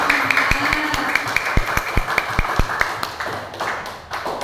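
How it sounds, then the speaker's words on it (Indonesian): An audience at a school counseling workshop claps for a group member, a loose patter of hand claps with several sharp, close, individual claps standing out, tapering off toward the end. "Kasih tepuk tangan buat Mas Arfa dari kelompok 4"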